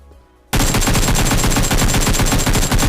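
Sustained automatic gunfire in the video game PUBG bursts in after a quiet half second, a loud dense rapid stream of shots that fills the rest of the moment without pause or talk.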